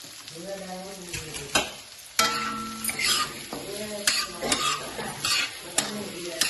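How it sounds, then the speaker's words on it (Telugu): Noodles fry in a pan with salt and chili powder, giving a steady close sizzle broken by utensil scrapes and stirring clatter, while a voice talks over the cooking. "కొంచెం సాల్ట్ కారం వేసుకొని ఒకసారి మనం మళ్ళీ ఫ్రై చేసుకోవాలి."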